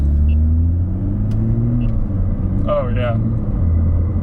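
A BMW F30 with the B58 engine and a tuned XHP transmission accelerates, its loud, steady engine and road rumble filling the cabin while a man exclaims briefly mid-pull.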